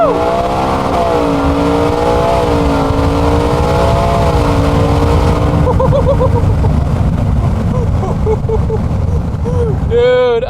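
870 whp four-wheel-drive Ford F-150 pulling hard from a 40 mph roll, engine note climbing steadily in rising harmonics, loud and continuous with wind rush, then easing off; voices whoop and shout over it.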